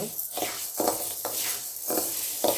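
Urad dal dry-roasts in a pan without oil, stirred in a quick rhythm of gritty scrapes about twice a second over a faint crackle.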